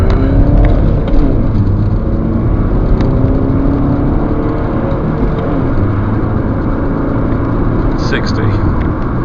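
A 2010 Audi A6 2.0 TDI diesel sedan accelerating from 0 to 60, a loud, steady engine drone that builds in pitch through the gears and fills the cabin for several seconds.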